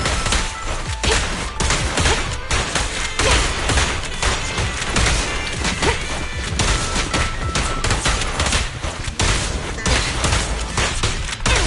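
Relentless gunfire in the Zenless Zone Zero video game, a loud dense barrage of rapid shots and booming impacts that continues without pause for over ten seconds.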